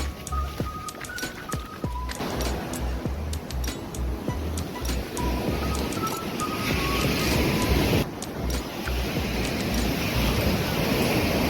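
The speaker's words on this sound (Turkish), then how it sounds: "Dalga geliyor." Ocean surf breaking on a beach during a camping trip with a cocker spaniel, a steady broad wash of waves rising louder toward the end, with wind buffeting the microphone and a few faint clinks.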